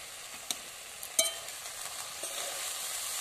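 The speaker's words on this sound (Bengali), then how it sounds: "দিয়ে আমি একটু ভালো করে নেড়ে নেব।" Turmeric- and chili-dusted greens frying in a pan, with a soft steady sizzle that builds and a few light scrapes and taps from stirring, quiet and close with no talking.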